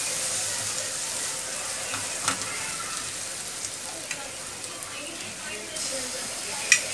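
Chicken samosa filling with spices and hot red chilli fries in a pan, giving a steady, close hiss and sizzle with occasional scraping and stirring clicks throughout.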